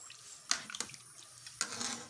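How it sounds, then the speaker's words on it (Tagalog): Tap water splashes into a cooking pot of rice porridge in a home kitchen, a few short quiet bursts of running and splashing water close by. "Dagdagan pa natin yung tubig."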